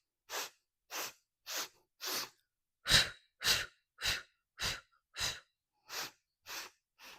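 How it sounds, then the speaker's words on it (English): Sharp, rhythmic breaths push out in a dozen short, even puffs during a pulsing core exercise, close and clear with brief silences between them. "It's called staccato breathing."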